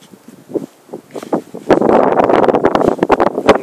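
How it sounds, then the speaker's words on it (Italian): Gusts of strong wind buffet the microphone at a level crossing in Contigliano, Italy, rising into a loud, continuous roar with rustling and blustery thumps. "Solo che però sta tirando un vento forte qui."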